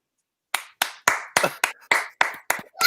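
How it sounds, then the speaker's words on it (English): A small audience claps in short bursts, about nine separate sharp claps or brief clusters in a quick, slightly uneven rhythm after a moment of silence, close and clear with no talk. "Don't clap!"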